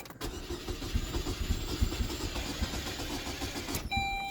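A Saturn Ion's starter cranks steadily in a fast rhythmic churn as the engine fails to catch, the repeated chugging ending abruptly with a click and a short electronic tone.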